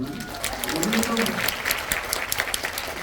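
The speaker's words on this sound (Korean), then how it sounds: "박수 한번 주시죠, 여러분." Audience applause at a film screening talk event, a steady wash of clapping under talk that swells and then continues at a moderate level.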